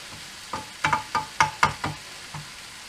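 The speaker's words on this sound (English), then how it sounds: "It's brown at the bottom, so turn it over, flip the other side, which will retain the texture in the mince." Beef mince frying in a pan is turned over with a utensil, giving about eight distinct scraping knocks over a soft background sizzle, close and moderately loud.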